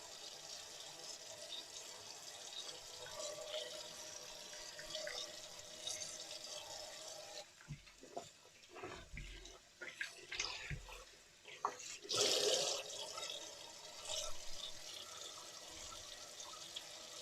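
Tap water runs steadily into a sink during face washing, with splashing and brief louder bursts from hands and water near the basin.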